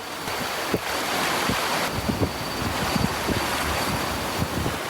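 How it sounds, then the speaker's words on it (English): Strong wind buffets a desert island coast at night, with steady roaring surf and microphone-battering gusts throughout, and repeated low thumps from the wind hitting the mic. "This wind is crazy."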